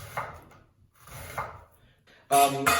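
A knife slicing an onion into thin half-moon slivers on a wooden board, two soft scraping cuts and then a louder, sharper pair of chops at the end, close and unaccompanied by talk.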